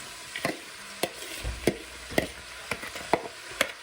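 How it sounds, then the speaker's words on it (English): Six cups of chopped onions hit hot oil on medium heat, giving a soft, steady sizzle broken by sharp clicks and scrapes about every half second, with no talking. "once your oil has heated up, I have 6 cups of onions that I've cut up. I'm going to add that."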